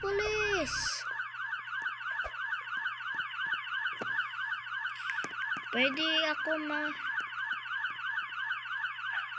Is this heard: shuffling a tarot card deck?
no